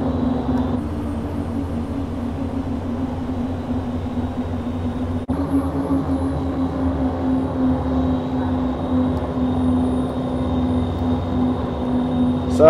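Steady, loud engine drone from a Q400 turboprop in the X-Plane 10 flight simulator, a continuous hum with a strong low tone running unbroken throughout, with no talk.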